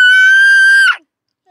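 A young child screams at a shopping mall in one loud, piercing, sustained shriek lasting under a second. It cuts off abruptly, leaving silence.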